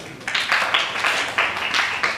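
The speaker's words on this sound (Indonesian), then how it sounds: "Oke, kasih tepuk tangan dulu." Rhythmic clapping from a small audience of pesantren students at a magic and hypnosis show, in repeated bursts a few times a second, moderately loud.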